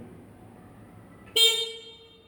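After a quiet moment, a single loud motor-tricycle horn blares close by for about a second, then fades out.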